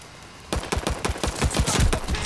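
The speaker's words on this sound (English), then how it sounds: "I'm gonna try to get a long shot here." Rapid gunfire from a weapon in Call of Duty: Vanguard bursts out after a brief quiet, a loud, close run of sharp cracking shots in quick succession.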